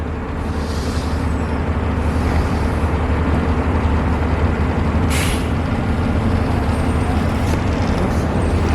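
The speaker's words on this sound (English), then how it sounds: "Oh, there goes the baby bus." A small bus passes on a street in Santa Barbara, giving a steady low engine and road rumble with a brief hiss of air brakes midway. It sounds moderately close and there is no talking.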